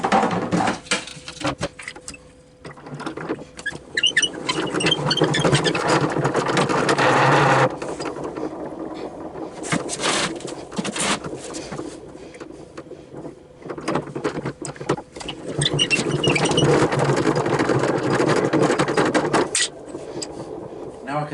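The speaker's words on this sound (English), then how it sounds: "we're going to continue spinning it for a while more" A budget honey extractor spins frames of thick honey with a steady mechanical whir and rattle. It runs in two long stretches separated by a quieter gap, and a voice may be faintly present.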